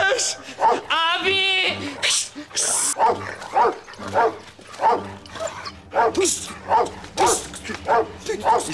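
A guard dog watching over a flock of sheep barks loudly and repeatedly in close, rhythmic bursts, with people talking over and between the barks.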